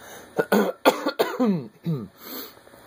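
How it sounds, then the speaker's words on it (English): A series of rough, throaty bursts, coughing and throat clearing close to the mic, several short hacks over about two seconds. "Which I'm going to go ahead and clear my throat right now."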